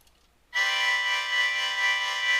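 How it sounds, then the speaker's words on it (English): A single sustained major ninth chord rings out after brief quiet, bright and steady with rich overtones, held without talk. "I'm playing a major 9 chord"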